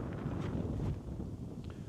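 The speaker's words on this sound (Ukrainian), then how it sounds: "Сьогодні хоч і вітерець, вітерець такий прям сильненький." Steady wind buffets the microphone with a rough, low rumble, continuous and fairly loud throughout, out in a wheat field during herbicide spraying.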